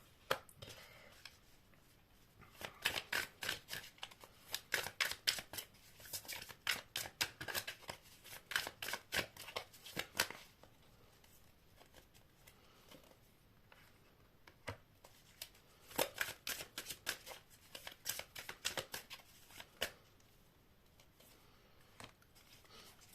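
Tarot cards are shuffled in rapid riffling bursts, each a quick run of crisp papery flicks, close and fairly quiet, with short pauses between bursts.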